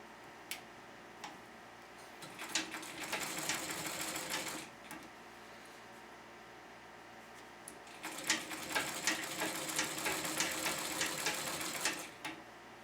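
A sewing machine stitches down quilt binding in two bursts of rapid, close ticking needle strokes separated by a quiet pause, with a few faint clicks between runs.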